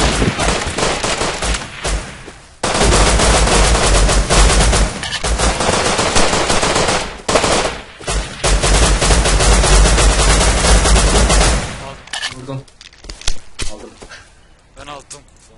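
Loud, dense automatic gunfire from the video game Rust pours out in long sustained bursts with brief gaps, close and harsh, while players talk over it.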